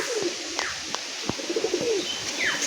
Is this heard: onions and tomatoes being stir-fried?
no